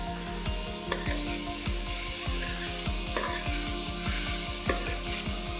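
A spoon stirs a spiced South Indian cabbage stir fry (muttaikose poriyal) in a pan. A steady close sizzle sits under rhythmic scraping strokes, about two per second, with no talking.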